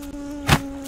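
A fly buzzing in the farming video game Dinkum, a brief close buzz swelling for a moment over a steady tonal hum of game background sound.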